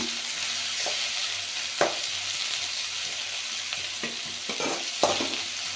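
Onions frying in oil for egg rice hiss steadily in a pan, with a few sharp scrapes and taps from stirring standing out over the constant sizzle.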